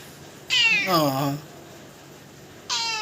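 A cat meows loudly nearby, one long drawn-out meow followed after a pause by the start of another.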